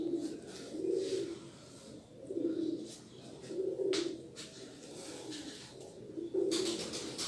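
Racing pigeons cooing in a loft, soft repeated coos in rhythmic bursts about a second apart, close by, with faint background rustle and clicks.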